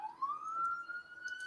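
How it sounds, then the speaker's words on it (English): A police siren wails outside in a single rising tone, distant and moderately faint, with no talk over it. "Hear the siren?"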